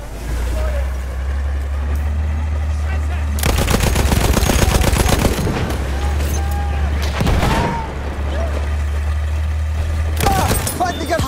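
Lewis machine gun firing in the World War I shooter Battlefield 1, with three loud, close, rapid automatic bursts: a long one, a short one, then another. Engine rumble and faint battlefield noise run underneath.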